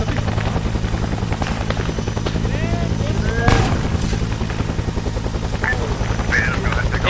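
Vietnam-era helicopter in the Arma video game, a steady loud rotor thump and engine drone filling the whole stretch, with scattered gunfire cracks and shouted voices over it.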